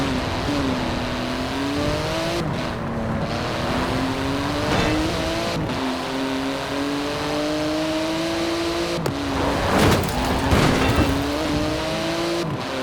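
Porsche 911 GT2 RS with 700 horsepower, rear-wheel drive and a titanium exhaust, driven in Forza Horizon 4, its engine droning steadily with gear changes and tire squeal, loud and close throughout.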